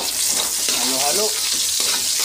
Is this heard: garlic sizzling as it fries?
yes